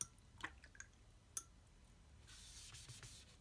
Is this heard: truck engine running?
no